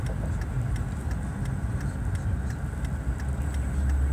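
Street traffic with cars passing by, a steady, moderately faint road rumble with light ticking under it and no talk.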